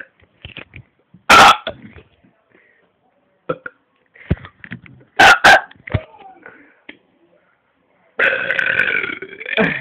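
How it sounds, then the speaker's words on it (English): Loud, close burps from a burping contest: a sharp one, then a quick double burp, and finally a long drawn-out belch, with quieter murmurs and small sounds in between. "Burping!"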